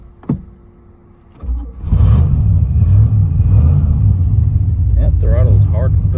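A car engine catches after a click and settles into a loud, steady low rumble, its pitch rising and wavering as the throttle is pushed, with a voice speaking briefly over it near the end.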